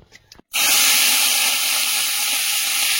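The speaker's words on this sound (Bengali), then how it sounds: "কড়াইতে তেল দিয়ে দিচ্ছি। প্রথমে উচ্ছে আলুটা ভেজে নেব।" Bitter gourd and potato hit hot oil in a wok with a sudden loud, steady hiss of frying that holds strong and unbroken for a few seconds after a brief quiet moment.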